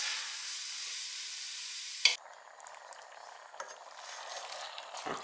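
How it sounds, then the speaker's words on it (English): Ground beef mince and tomato paste for bobotie sizzle in a pan: a steady, loud frying hiss that drops to a softer, crackling sizzle partway through, with a few stirring clatters. "So next I will add the mince, ground beef, and the tomato paste, and some other ingredients."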